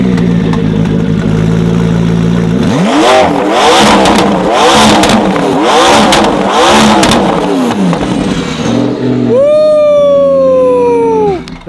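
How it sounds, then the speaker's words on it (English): A supercar's exhaust is revved very loudly up close. Repeated rising and falling revs blast out in quick succession, followed by a sharp high-pitched downward whine as the engine settles. "Now let's hear the exhaust for one last time"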